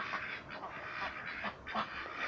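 Several ducks quack in short raspy bursts, overlapping and close by, with a steady background hiss and no speech.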